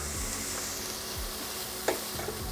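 Onions cooking in vegetable or canola oil for a broccoli cauliflower sausage casserole, a steady soft sizzle with a brief scrape or clatter from stirring partway through.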